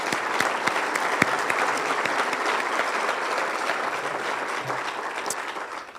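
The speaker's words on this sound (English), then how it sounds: "Can you please give a round of applause to the panel?" Audience applause for a panel at a Rotary luncheon on Seattle race relations, a sustained even clatter of many hands clapping that tapers off at the end, with no talk.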